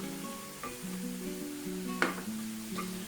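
Minced garlic and sun-dried tomato sizzle gently in a skillet over medium heat, with a low steady hiss, a few utensil clinks and scrapes against the pan, and a faint tonal hum.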